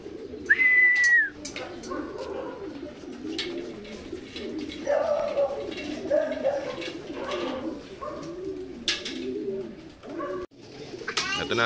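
Racing pigeons cooing at a family loft during a derby in Matnog, Sorsogon, soft repeated throaty coos close by, with a brief whistle early on and scattered thumps and background movement.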